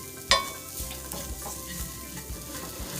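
Onions and garlic frying in a pan for vegan potato croquettes, a soft steady sizzle with a sharp scrape at the start and repeated quiet scraping strokes of stirring throughout.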